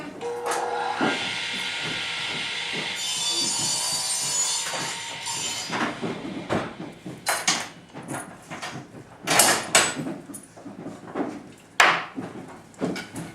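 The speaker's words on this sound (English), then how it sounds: "Loud noise cutting." Wood is sawed with loud, rasping cutting noise, steady at first and then breaking into uneven bursts and knocks, with no voices heard.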